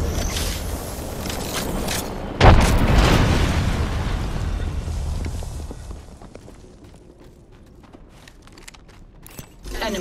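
A frag grenade explodes in Apex Legends: a single sudden, loud boom bursts out of the game noise and rolls off in a long rumbling decay that fades to a quieter bed.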